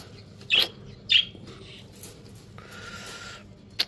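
A sick pet parrot taken out of its cage gives two short, sharp chirps close by, then soft rustling and a faint hiss before a final brief chirp, over low background noise.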